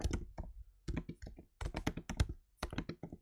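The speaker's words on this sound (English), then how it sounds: "Hopefully I'm not deafened you with the keyboard then." Fast, irregular key clicks and taps from typing on a MacBook keyboard come in bursts with short pauses, fairly quiet and close, with no voices.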